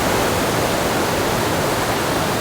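A waterfall in northern Bali roars as a loud, constant rush of falling water, steady and close with no voices.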